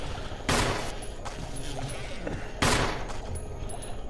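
Two sharp gunshots fired at a bug in Resident Evil HD Remaster, spaced about two seconds apart, each loud and close with a short decay over quiet game ambience.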